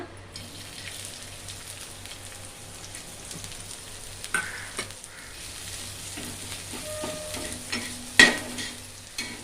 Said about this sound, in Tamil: கீரையை கொஞ்சம் வதக்கிடுங்க